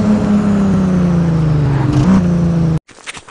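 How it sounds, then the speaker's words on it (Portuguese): Car engine in the video game Driver 3 droning at a steady high pitch, the tone rising and dipping slightly as it revs, loud and close before cutting off abruptly. "Beleza, vamos ver a aceleradinha."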